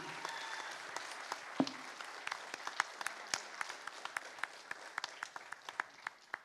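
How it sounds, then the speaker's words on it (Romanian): An audience at a Romanian diaspora talent show breaks into applause, a sparse but steady patter of individual claps spread across the room, moderately close and fairly even, with no voices over it. "Aplauze pentru băcița noastră, Amalia Baciu!"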